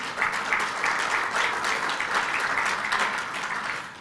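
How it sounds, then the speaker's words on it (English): Audience applause at an internet infrastructure conference, honoring platinum sponsors; steady, dense clapping from a full room continues for the whole stretch at moderate loudness. "If you can just have a round of applause for them."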